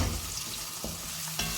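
Onions frying in butter with chili and spices, giving a continuous bright sizzle close to the pan, with a couple of sharp stirring scrapes near the end.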